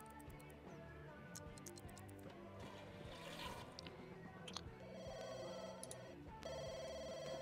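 A telephone in The Sims 2 video game rings in repeated electronic trills over quiet ticking game ambience and light music, with no one answering.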